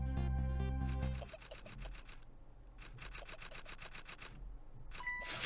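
Rapid, furious clicking of typewriter-style keys from the video game Ghost Trick Phantom Detective, a dense burst of sharp clacks following a loud music tone, then a brief chime near the end.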